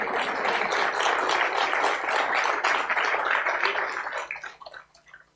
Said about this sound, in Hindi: आप हल्की ताली बजा रहे हो इसमें।